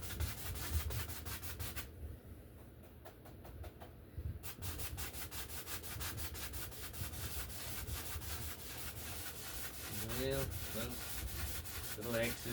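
Paintbrush making small crisscross strokes on a surface during oil-style landscape painting, a steady close scratchy rubbing that runs throughout with faint background noise.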